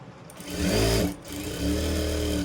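A sewing machine stitching soft blouse fabric from the back side: two close, loud bursts of fast motor whirring and needle chatter separated by a brief pause.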